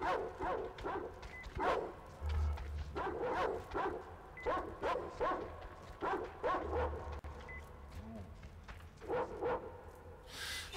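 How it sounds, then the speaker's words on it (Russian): Aggressive dogs barking in the video game Metro Exodus, repeated bursts of barks and yips at mid distance over a low rumbling background, with no talk. "Собаки агрессивные."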